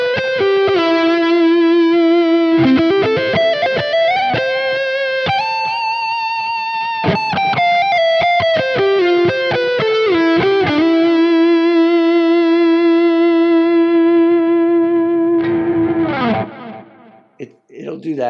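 PRS SE Studio Standard electric guitar played through a high-gain lead tone on the neck pickup, loud sustained distorted notes with bends and held pitches, ending in a brief scrape before a short pause.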